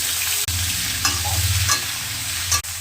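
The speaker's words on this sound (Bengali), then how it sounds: "রসুন ফোড়ন দিয়ে কাঁচা লঙ্কাটা দিয়ে দিলাম, কুমড়োটা দিয়ে দিলাম" Raw pumpkin pieces with garlic and green chili being stirred and fried in hot oil, giving a steady low sizzle and scraping stir noises that run throughout, with a few sharper clinks of a utensil against the pan.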